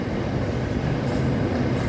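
An electric Red Line train rumbles past steadily and loudly, a continuous low roar of wheels on track with faint high hissing, no voices.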